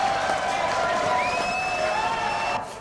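A French TV studio audience applauds a singer with a dense, continuous wash of clapping and crowd noise, and a few voices and whistles rise over it before it cuts off abruptly.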